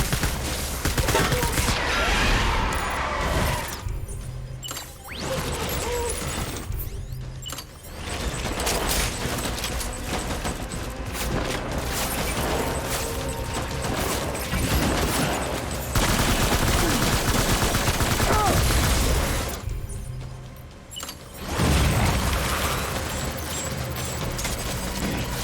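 Sustained heavy gunfire roars through a firefight in the video game Death Stranding, dense overlapping bursts and shots filling most of the stretch, with a few brief lulls between loud volleys.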